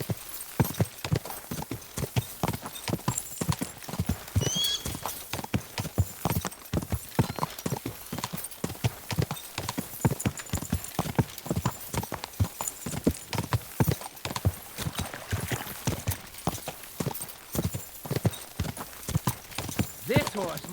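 Horse hooves clip-clop steadily on the ground in the medieval Bohemian world of Kingdom Come Deliverance II, a brisk, even gait running the whole time, with speech and a brief whinny over it.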